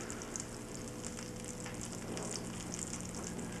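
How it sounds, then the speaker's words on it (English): Chicken fries in a pan with a soft, continuous crackling sizzle that stays steady and fairly quiet for a few seconds, with no voices. "Listen to that chicken cooking away."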